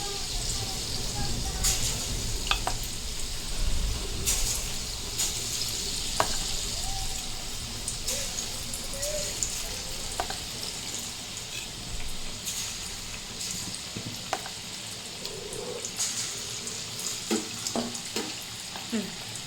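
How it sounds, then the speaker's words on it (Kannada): Bajji batter frying in hot oil in a home kitchen, a steady broad sizzle and crackle running throughout with occasional stirring clinks, while a person talks over it. "ಇವಾಗ ಚಮಚಲ್ಲಿ ಬಜ್ಜಿ ಬಿಟ್ಟಂಗೆ ಬಿಟ್ಕೊಂಡ್ಬಿಡೋಣ"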